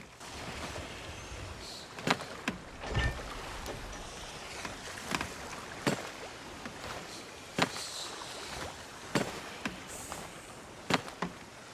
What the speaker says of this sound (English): listen to the squeak that comes from this trinket.